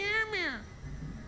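A cat meows in the video game Vampire: The Masquerade Bloodlines 2, giving one rising and falling meow and then a second, shorter one, close and clear, with low background sound after.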